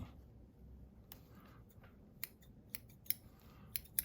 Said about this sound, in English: Ooh, some nice scissors.